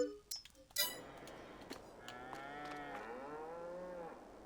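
Cattle moo in Farming Simulator 22 with the Bavarian Pack mod, after a few short clinks at the start. One long, drawn-out moo rises and falls and dominates the rest, with no talking.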